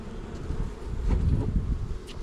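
Honey bees buzz in a dense, steady hum around an open hive during an inspection where new foundation is being added and comb is being drawn out. The swarm drone sits close and fairly loud, with no talk over it.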